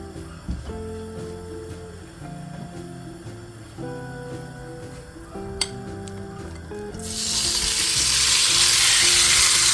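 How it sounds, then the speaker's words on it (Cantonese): Iberian black pork stir-fried in a little oil bursts into a loud, close, sustained sizzle partway through, after a stretch of tonal music with light clinks of cookware. "俾少少油，我哋炒一炒個豬肉。"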